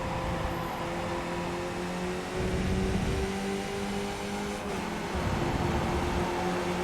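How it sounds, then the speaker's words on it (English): Skip Barber race car in a racing video game at Interlagos, its engine droning and revving steadily up close, with pitch shifts as the throttle lifts and surges, no talk. "I'm actually revving like crazy just to let him know that I'm backing off like crazy."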